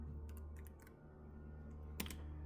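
Quick keystrokes on a computer keyboard entering a value, a short cluster of soft clicks followed by one sharper key press, heard close over a low steady hum with no talking.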